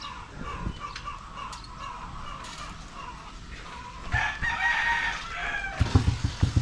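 A rooster crows in the distance on a farm near its chicken coops, a drawn-out call standing out over quiet outdoor background with a few soft knocks and rustles.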